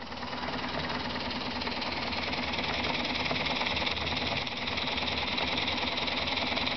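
Small beam steam engine running off a compact boiler, giving a steady, even chuffing and mechanical clatter throughout at moderate level, with no speech.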